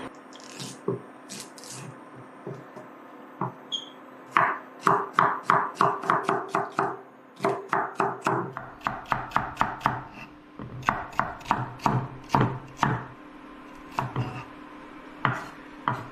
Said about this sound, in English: we're going to cut up some celery